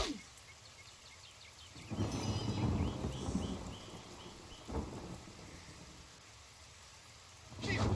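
Rain falls in a Fable video game scene as a soft continuous hiss, broken by rumbling swells and a couple of heavy thunder-like bursts.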